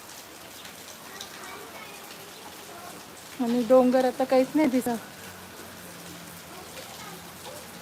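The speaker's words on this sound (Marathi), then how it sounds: "पाऊस चालू हो." Steady rain patters on a surface throughout, while a person speaks briefly in the middle.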